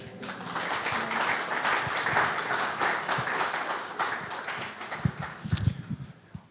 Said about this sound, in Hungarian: Meg lehet tapsolni, igen.